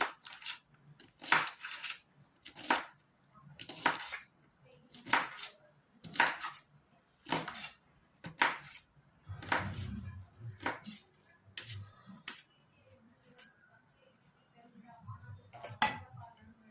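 A knife chops vegetables steadily in irregular strokes on a board, each cut a crisp knock, continuing for a while with little else around.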